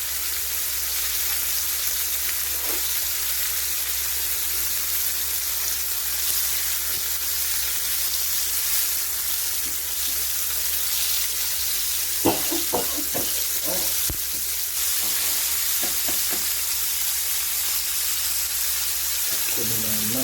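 Fish fries in a pan with a loud, steady hiss of hot oil that runs unbroken throughout, with a few brief scraping and clattering touches partway through, close by and with nobody speaking.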